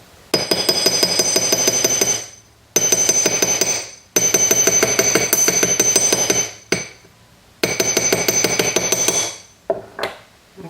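The other side of a wire leaf earring gets hammered on a block in rapid bursts of sharp, ringing metal taps, several runs separated by brief gaps and ending with a few single strikes, close and loud.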